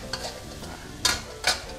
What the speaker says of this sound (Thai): เปิดไฟแรงนะครับให้เดือด